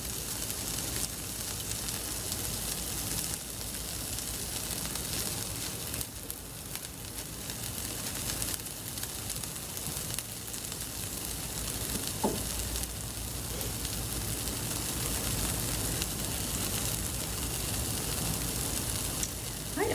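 Corn and vegetables sauté in a hot pan, a continuous loud sizzle and crackle with occasional stirring scrapes, steady throughout with no talking.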